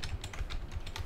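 Quick, light keystrokes on a computer keyboard, a short burst of close, soft clicking with no voices.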